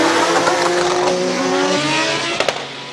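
Purpose-built Nissan R35 hill climb race car at a Cape Town hill climb, engine roaring loud and steady with rising and falling revs as it accelerates, a few sharp pops near the end.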